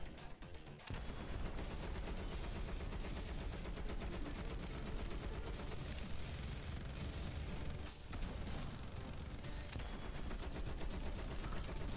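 Gunfire in the shooter game Evolution 2: Battle for Utopia, a continuous rapid crackle of shots with dense overlapping reports, fairly faint and steady throughout without talk.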